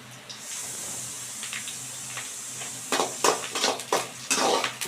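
Curry leaves and onion sputter in hot oil for a sambar tempering, a soft steady sizzle broken later by several loud bursts of crackling and stirring scrapes.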